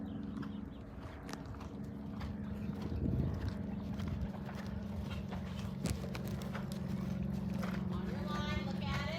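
Horse hooves during an eventing riding lesson, a faint rhythmic clip-clop of a horse moving at a canter, heard at a distance beneath an instructor's voice calling out directions.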